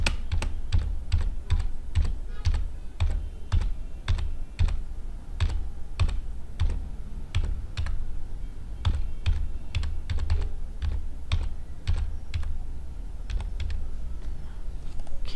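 Arrow keys on a computer keyboard tapped repeatedly during Photoshop CC 2021 editing, a steady stream of crisp, close plastic clicks spaced a fraction of a second apart, with no voices.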